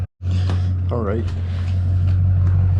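Truck cabin on the drive out to a Minnesota rifle-season hunting spot, with a steady low engine drone throughout and voices talking over it.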